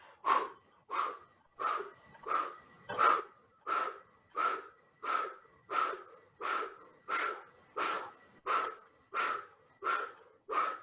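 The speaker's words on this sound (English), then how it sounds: "Deep exhales, deep inhales. You're really purifying and breathing deeply." Deep inhales and exhales during a Kundalini yoga breathing exercise, a steady series of about fifteen strong, evenly spaced breaths close to the microphone with no talking.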